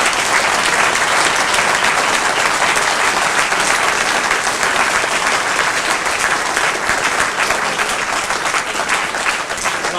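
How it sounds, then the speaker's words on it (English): An audience at a lecture on the price of a Brexit deal gives a big round of applause. Loud, dense clapping from a large crowd fills the whole stretch without pause. "can we just give a big round of applause"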